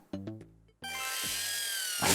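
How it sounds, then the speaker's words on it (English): Power drill sound effect from the Nintendo Switch 2 Welcome Tour, a game chime of short tones followed by a loud steady buzzing whir that rises at the end, with no talk. "That's power drill."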